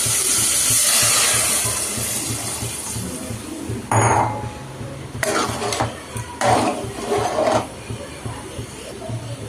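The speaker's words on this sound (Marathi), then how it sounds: "आता आपण थोडं ह्याच्यात पाणी टाकून शिजवून घेऊया" Water poured into a frying pan of fried drumstick pods for a village-style drumstick and potato curry, giving a loud sizzling hiss with splashy bursts, while someone talks over the cooking.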